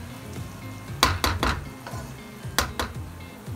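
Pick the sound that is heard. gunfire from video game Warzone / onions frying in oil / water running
onions frying in oil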